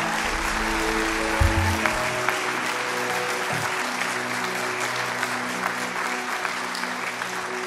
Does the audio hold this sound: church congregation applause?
yes